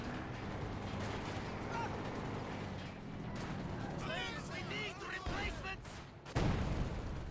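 Artillery barrage in Company of Heroes 2, a 1v1 match with Soviet SU-76 and German MG42 units, rumbling distant shell impacts and scattered crackling blasts, with a heavy close explosion near the end under steady battle noise.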